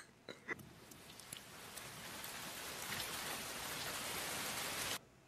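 Rain falling steadily in an animated scene, a soft, even hiss that grows slightly denser and louder before cutting off abruptly near the end.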